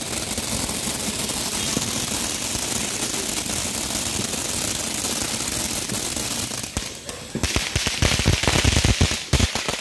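Firecrackers and fireworks go off on New Year's Eve in the Philippines. A dense, continuous crackle gives way to a rapid series of loud, sharp bangs close by.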